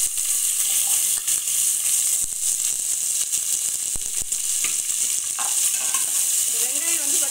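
A quarter kilo of sliced large onions fry in a pan for mutton biryani, a close, even sizzle with occasional stirring scrapes and no voices.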